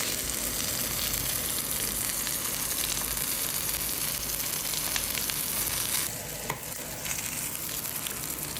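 Pork sirloin fat sizzles and crackles steadily in a hot pan, a dense, even frying hiss throughout with occasional pops, close and without talk.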